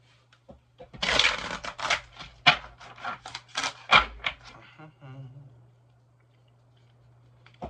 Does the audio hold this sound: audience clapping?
no